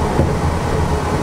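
Disneyland's monorail rolls in toward Tomorrowland Station, a loud, close rumble of wheels and motors with a dense rhythmic clatter, no talking.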